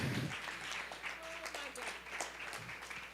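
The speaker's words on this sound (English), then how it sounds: "So let's give her a round of applause" Audience applause at a Kingdom of Kush anniversary gala in New York, a steady wash of clapping that holds for about three seconds, with voices murmuring underneath.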